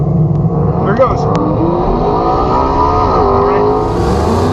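A drag race car launches down a quarter-mile strip, its engine roaring steadily and rising in pitch as it accelerates, loud and close, with a voice talking briefly over it.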